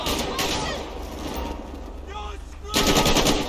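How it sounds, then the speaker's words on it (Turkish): Automatic machine gun fire during a traffic-stop shootout in the video game GTA 5, rapid bursts of shots at the start and again at the end, with a quieter gap between them. "Adamda makineli var ya. Otomatik silah var."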